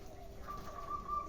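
A wild-caught local zebra dove (perkutut) coos faintly, a thin steady tone held over low background rumble for over a second.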